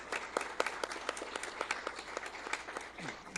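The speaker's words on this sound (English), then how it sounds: "would you give all that group a big round of applause, please?" An audience at a college board of regents meeting gives a round of applause, dense crisp clapping with distinct individual claps standing out, close and fairly loud throughout.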